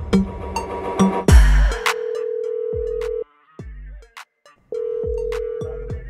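Outgoing phone-call ringback tones over Warzone game audio on a laptop: a burst of game noise, then two long steady ringing tones separated by a short silent gap, clear and fairly loud.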